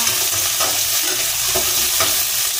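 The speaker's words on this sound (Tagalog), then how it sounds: "Ilagay ang sibuyas." Onions fry in hot oil, giving a loud, dense, continuous sizzle with soft scraping stirs rising through it, close up and with no voices.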